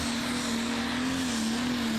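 The Prostock pulling tractor Next Sensation from the Netherlands runs at the 2014 Eurocup tractor pulling event in Brande, Denmark, its engine a continuous, loud, steady roaring drone with a sustained pitch and no pauses.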